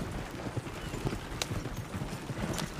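A horse with a lantern fitted walks steadily, its hooves giving a regular, fairly close clip-clop rhythm over soft background noise.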